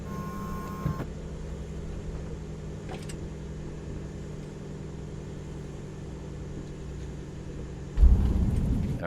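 A general aviation aircraft in Microsoft Flight Simulator 2024, slipping on a short engine-out approach, gives a steady low groaning drone and rumble that holds throughout, then swells into a louder rush near the end.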